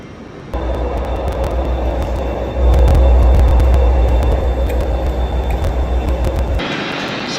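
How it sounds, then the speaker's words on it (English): The Night Riviera train pulling into London Paddington, a loud, steady low rumble that swells partway through and holds for several seconds before cutting off, with no talking. "So then my train has arrived. This is the Night Riviera train"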